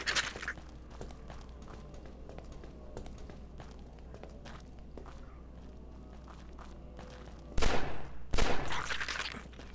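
Two sharp gunshot bursts ring out near the end, in the Fort Zombie video game on hard difficulty, after a long stretch of low ambient game noise and scattered footsteps.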